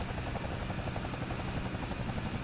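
A Cowan Sim CS222B Airwolf helicopter in a flight simulator produces a steady, dense rotor thrum with a rapid pulsing chop and engine buzz, continuous and loud throughout.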